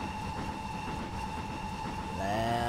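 BR King Class steam locomotive climbing uphill in Train Simulator, a steady droning rumble with rhythmic chuffing and a rising whistle-like tone near the end, no talking.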